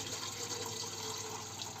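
Water pours steadily into jars of cucumbers during home canning, a continuous close splashing fill that runs alone without pause.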